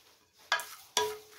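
Spices being mixed into a mixed vegetable pickle of carrot, turnip and peas, heard as two sharp, close scraping strokes of a spoon against a bowl separated by brief quiet, with no talking.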